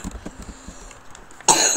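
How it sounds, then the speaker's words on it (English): A person coughs up close, a few soft, muffled coughs followed by a sharper, louder one at the end. "oh man, I'm coughing to death."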